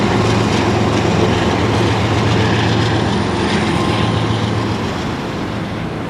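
A Norfolk Southern freight train passes near Inman Yard in Atlanta, a loud, continuous rumbling roar with a low steady hum that eases off slightly toward the end.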